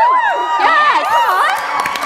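A studio audience at a live game show cheers and whoops loudly, with high, excited shouts and sliding whoops overlapping in a continuous, close roar.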